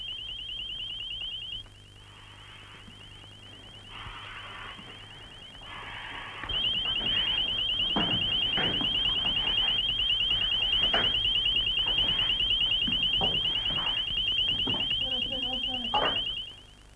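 A firefighter's personal distress alarm: a shrill electronic tone beeps at first, then settles into a loud, continuous pulsing wail, with voices talking faintly underneath.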